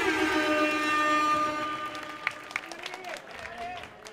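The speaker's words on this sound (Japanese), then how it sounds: "ロッキーの方で拍手。" Audience at a rap battle tournament semifinal clapping for the winner, a moderate burst that fades into scattered claps while someone talks over it.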